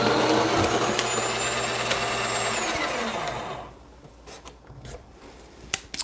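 A Breville Barista Express grinder grinds espresso coffee with a loud, steady mechanical whir for about three and a half seconds, then cuts off, leaving a few light taps and clicks.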